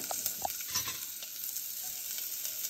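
Moong being sautéed with spices in a pan, with a faint steady sizzle and soft stirring scrapes, close but quiet, with no talking.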